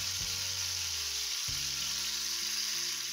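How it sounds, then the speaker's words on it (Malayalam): Tandoori chicken pieces fry in a pan for cutlets, giving a constant close sizzle with a couple of dull knocks from the pan. No one speaks. "ഇത് ചിക്കൻ ഇപ്പം ഫ്രൈ ആയിട്ടുണ്ട്"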